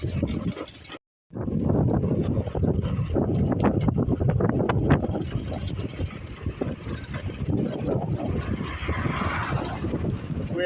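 A loud, rattling fixed-gear bicycle being ridden, giving off a steady clattering, clip-clop-like knocking that runs on continuously after a brief drop-out near the start, with no talking.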